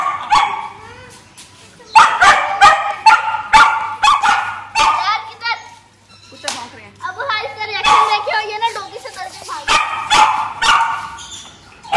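A dog barks repeatedly at close range in sharp, loud bursts with a few pauses, while people talk nearby.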